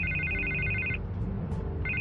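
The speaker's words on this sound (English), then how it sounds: "I can't get the phone to stop ringing." A telephone rings in the Batman Telltale video game, a close electronic trill that sounds for about a second, falls silent briefly, then starts again.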